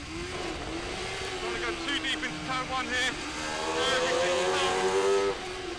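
Sports 1000 racing cars accelerate off the start at Croft circuit, engines rising together in a rough, rising drone with overlapping revs that swell toward the end, under a commentator's voice.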